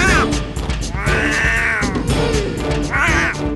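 A person imitates a cat's meow with several drawn-out, wavering mewing cries in close succession, loud and near, in a scene from a Hyderabadi short film.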